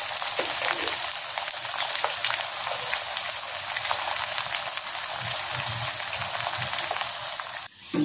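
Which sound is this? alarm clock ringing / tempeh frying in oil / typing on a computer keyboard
tempeh frying in oil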